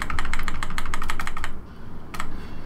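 A computer keyboard pressed in a fast, even run of crisp keystrokes, close and loud, then a pause and a few more taps, with no voice over it.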